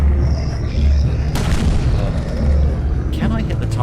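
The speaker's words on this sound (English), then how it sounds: "Let me go back to my exploding cannon." A cannon fires explosively in a train-based war video game, heavy booming blasts that land close and loud over a constant rumbling game backdrop, with one sharp burst near the middle and another toward the end.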